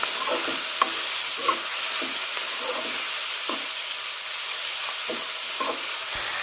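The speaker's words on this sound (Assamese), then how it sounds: "এতিয়া এই মছলাখিনি মই ৰঙচুৱাকৈ ভাজি লওঁ" Turmeric, salt and other ground spices fry in a pan for a chicken curry, giving a steady close sizzle with a spatula scraping and stirring in irregular strokes throughout, and no voices.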